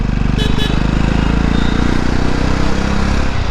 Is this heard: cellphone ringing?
no